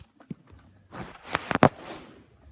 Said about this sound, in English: You charge it like this, and then you can shoot it.